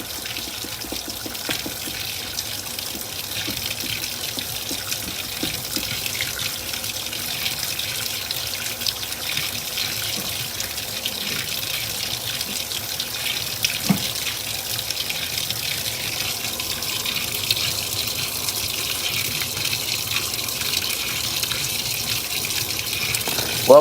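Water gushes steadily into a washing machine during its fill cycle, a continuous, even hiss of running water that holds at a constant level for the whole stretch, with no voices.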